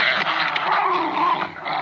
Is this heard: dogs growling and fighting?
yes